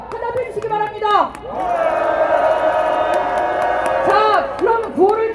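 A crowd at a protest rally against Fukushima seafood imports bursts into cheering, whoops and shouts under a sustained roar, with scattered clapping and voices rising and falling around it.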